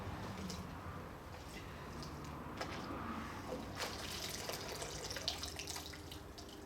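Water runs over a shop vac filter as it is rinsed by hand, a faint, steady trickle and splash with no one talking.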